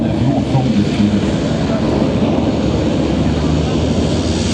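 A Boeing 747-400 airliner of Corsair makes a final pass at an air show, a loud steady broadband engine roar filling the scene without letup.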